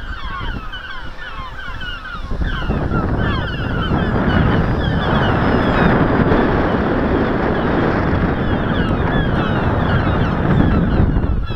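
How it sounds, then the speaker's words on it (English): Strong wind buffets the microphone in a loud, steady roar at an RC plane flying field, with faint bird calls audible at first before the gusts swallow everything. "Very windy today."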